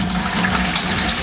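Filtered water pours into a sterilized beer fermenter in a steady, full-bodied gush for a second or so, loud and close, with no voices.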